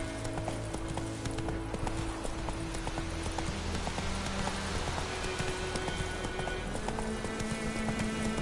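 Roach, the horse in The Witcher 3, gallops with rapid, rhythmic clip-clop hoofbeats that run steadily throughout, over a soft hiss of in-game ambience.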